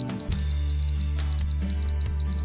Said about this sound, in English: The alarm will sound when the child starts to wet at night.